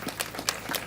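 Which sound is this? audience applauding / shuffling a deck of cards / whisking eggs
audience applauding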